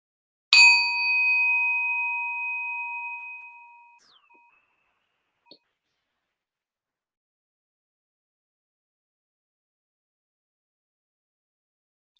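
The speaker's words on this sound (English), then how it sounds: "I will start us off by ringing the bell" Meditation bell struck once, a clear bright ring that sustains and slowly fades over about three seconds, followed by near silence with a faint tap or two.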